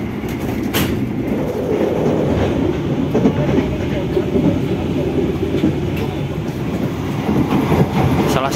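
Inside a running Ekonomi New Generation train, the Jaka Tingkir, a loud continuous rumble of wheels and carriage fills the space, with rhythmic clickety-clack and occasional sharp metallic clicks throughout.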